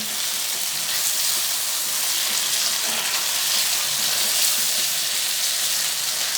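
Taro frying in a pan with black pepper and spices being stirred in, giving a steady, even sizzle that holds at a constant level throughout, with no voices.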